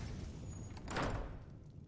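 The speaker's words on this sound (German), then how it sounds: "Wieso ist die Tür zugegangen?" A door in the Enderal video game swings shut with a single muffled thud and brief scrape, set against a quiet background and heard alone.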